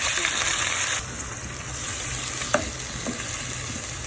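Onion and marinated pork sizzle loudly in a hot pan, with a steady frying hiss that eases slightly partway through and a couple of faint clinks of stirring.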